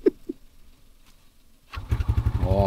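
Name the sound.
motorcycle engine starting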